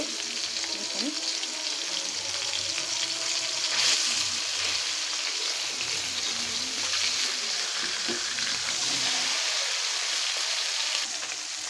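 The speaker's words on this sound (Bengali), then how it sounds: "মাছটা আমার একটু বাজা হয়ে গেছে আমি উল্টিয়ে দিব" Hilsa fish frying in oil in a pan, with a steady, close sizzle that holds throughout and a few brief scraping bumps as the fish is flipped.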